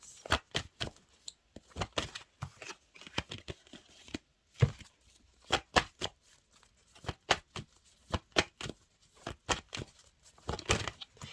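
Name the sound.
shuffling tarot cards to draw a final card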